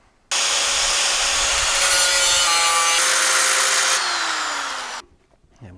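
A power tool cuts VW engine fan shroud tin in one continuous loud, close run of about five seconds, its pitch dropping slightly before it stops abruptly.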